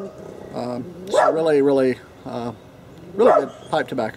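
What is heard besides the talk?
dog barking outdoors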